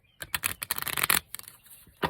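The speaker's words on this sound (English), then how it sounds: "See, I can really actually shuffle them. Let's give them a good shuffle." Small oracle cards riffle-shuffled up close, a quick burst of papery flutters and light slaps lasting about two seconds, quiet and without speech.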